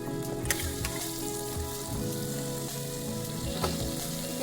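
Boiled pork and potato pieces sizzle and crackle steadily in hot oil, with intermittent scraping and clinking of a spatula stirring them in the pan, close and continuous.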